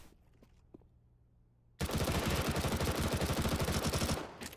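Rapid SMG fire in Counter-Strike: Global Offensive, a loud sustained burst of closely spaced shots lasting over two seconds after a quiet stretch, then cutting off abruptly.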